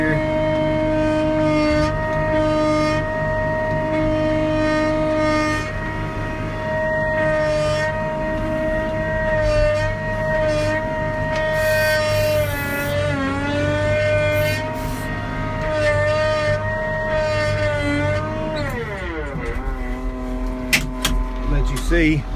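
A John Deere 544H wheel loader drives in first gear on soft ground, its diesel engine droning steadily and loudly up close with a whining drivetrain tone, then dipping and changing pitch near the end.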